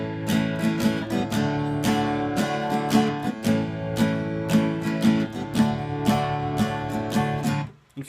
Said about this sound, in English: try switching between chords while keeping the strum pattern going